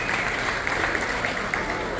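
Audience applause aboard a Margaritaville at Sea cruise ship during an onstage show, a steady wash of clapping with crowd noise and faint voices, continuous and fairly loud for two seconds.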